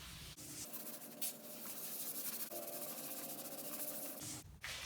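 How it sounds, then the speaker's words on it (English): A cloth rubs paste wax onto an MDF board in a soft, continuous scuffing hiss, faint and close, with brief pauses at the start and end. "I've never put paste wax on MDF before"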